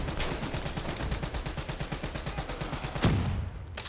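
Rapid sustained gunfire in Call of Duty Black Ops 3, a dense steady barrage of shots with a louder burst near the end, loud and close with no talk.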